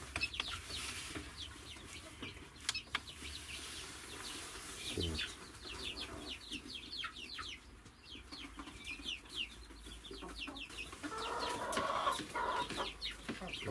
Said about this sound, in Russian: Так, птенцы все здесь.